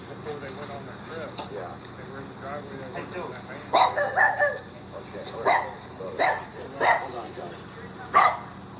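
A dog barks in short, sharp bursts, about half a dozen spaced yelps in the later part, close and moderately loud outdoors on grass, with people talking quietly in the background.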